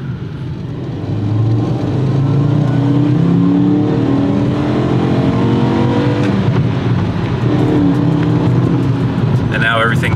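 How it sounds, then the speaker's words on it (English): A car with a faulty ABS wheel speed sensor accelerates on a test drive, its engine note climbing steadily and loud, close and continuous for the whole stretch, with someone talking now and then over it. "I'm just gonna do a little bit of an acceleration now"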